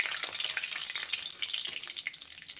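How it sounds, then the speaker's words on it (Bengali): Black cumin seeds and a torn dried red chilli fry in hot mustard oil, giving a steady, close crackling sizzle that holds at a moderate level for a few seconds. "তারপর ফোড়নটাকে কয়েক সেকেন্ড ভেজে নিচ্ছি।"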